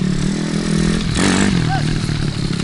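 A dirt bike with a clutch is given a little gas by a first-time rider, its engine droning steadily and swelling briefly as the throttle opens, close and continuous under people talking.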